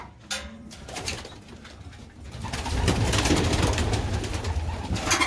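Pigeons coo inside a loft, with soft, low, throaty calls from several birds close by, then a rustling, fluttering stretch of feathers and movement that grows louder, and nobody speaking.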